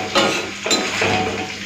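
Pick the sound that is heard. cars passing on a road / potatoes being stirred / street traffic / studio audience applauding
potatoes being stirred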